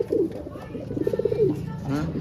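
A pigeon nearby gives repeated low, throaty coos in a soft rhythmic pattern, with a faint voice in the background.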